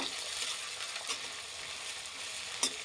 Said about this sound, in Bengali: এবার পেঁয়াজগুলো আমি লাল করে ভাজবো